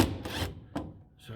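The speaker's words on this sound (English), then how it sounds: "So I'm now undoing the 2 rear shackles. These are a 19mm nut." Wrench work on 19mm nuts of the rear spring shackles on a Ford Transit Mk1 van, heard as a few short rasping, scraping strokes separated by brief pauses, close to the microphone.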